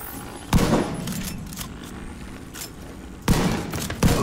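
Shotgun blasts in The Division 2, fired against enemies in New York: two sharp, loud booms a few seconds apart, then a third, with rumbling gunfire and combat noise in between.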